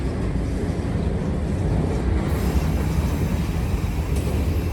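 A CSX freight train of box cars, pulled by a single locomotive, rumbles steadily past close by, a loud continuous rolling roar with no talking.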